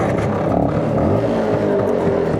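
An LML Star Deluxe 125 scooter engine runs close by with a steady, buzzing idle, a low throbbing drone with slight unevenness throughout and no talking.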